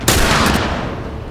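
Gunfire in The Last of Us Remastered on PS4: a loud, sharp burst opens the moment, then a dense rumbling roar of shots that slowly thins out, with no talking over it.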